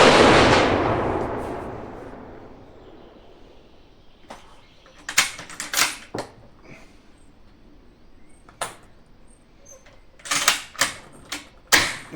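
A 1938 Mosin Nagant 91/30 rifle fired with surplus SSO ammunition at a 200-metre range: one loud shot with a long decay, then sharp clicks and clacks of bolt cycling and handling, and a few more crisp reports later.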